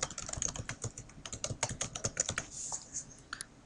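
Rapid, irregular clatter of keys on a computer keyboard as a password is typed, close and clear with no talking, the taps running in quick bursts for a few seconds.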